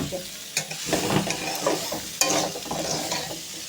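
Cumin and chili sizzle in hot oil in a pan, a busy crackling fry with repeated stirring scrapes and occasional sharp clatters, close and fairly loud with no voices.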